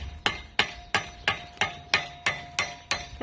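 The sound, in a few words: hammering a nail to form a rivet head on a garden fork handle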